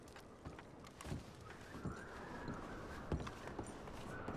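Faint hooves clip-clopping in an irregular rhythm with a soft whinny rising in the middle, quiet and somewhat distant, from horses in the video game Red Dead Redemption 2.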